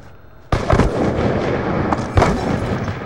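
Sniper gunfire in the video game Call of Duty: Black Ops 2, with a sudden loud blast followed by a noisy decaying tail and a second shot about two seconds later.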